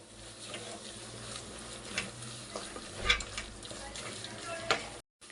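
Dry masala with two spoons of cumin powder frying in a pan for mutton curry, a faint low sizzle with occasional spatula scrapes and light taps, quiet and steady before cutting off at the end.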